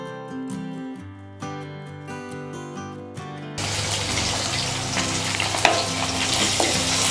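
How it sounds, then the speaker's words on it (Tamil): Loud, steady sizzling of onions, mustard seeds and dried chillies sautéing in a pan for beans poriyal, hissing continuously after music fades out, with faint stirring scrapes. "இப்போ நம்ம கடுகுலேருந்து வெங்காயம் காஞ்ச மிளகாய் சேர்த்து நல்லா வதக்கிக்கிட்டு இருக்கோம்"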